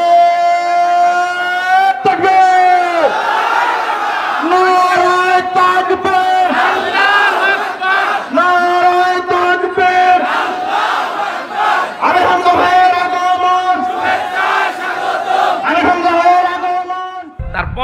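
A large crowd at a religious gathering in Baraigram, Natore answers a Naray-e Takbir call with loud, rhythmic chanting, repeated phrases rising together in unison throughout, voices near and full.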